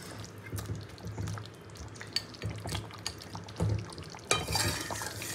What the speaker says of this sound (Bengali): গরম মশলাটা খুব ভালো করে মিশিয়ে নেবো।